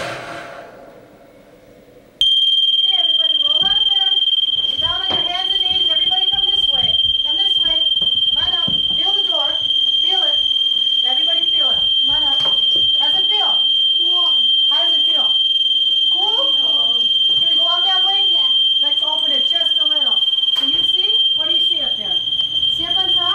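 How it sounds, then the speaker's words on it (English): A smoke detector shrills with a continuous high-pitched tone in a fire-safety training house, sounding loudly and steadily while people talk over it throughout. "The smoke detector is going to go off."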